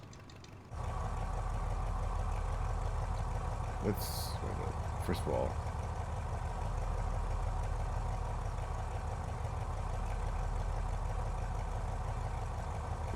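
Twin piston engines of a vintage Aero Ae-45 light aircraft run steadily in the cockpit, a loud, even droning hum throughout after a quiet start, with a brief spoken phrase over it.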